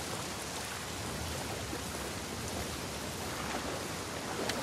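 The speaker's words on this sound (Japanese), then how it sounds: "それは雨だけど" Rain in the video game The Last of Us Part II, a soft, continuous hiss of falling water with no breaks and a few faint droplet ticks.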